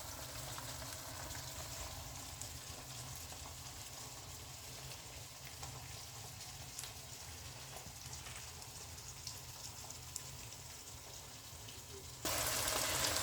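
Tomato cooking in a pan gives a steady, soft sizzling and bubbling that runs evenly throughout, with a brief louder rise at the very end and no talk.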